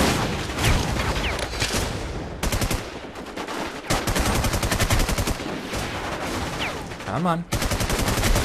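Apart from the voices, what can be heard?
gunfire in video game War Inc. Battlezone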